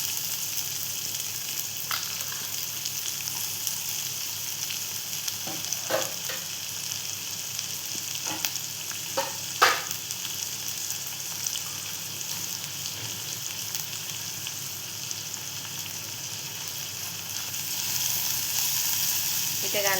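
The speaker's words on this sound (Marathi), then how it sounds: "इथे कांदा आपण परतवून घेते थोडासा" Chopped onion sautés in a pan after cumin seeds, giving a steady, close, bright sizzle with scattered small pops and crackles throughout.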